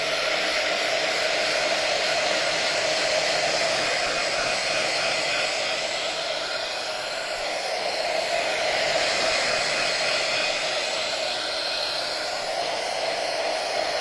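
A hair dryer blows steadily over a taped craft frame, a loud, close, continuous whooshing hiss that barely varies for the whole stretch, with no voices.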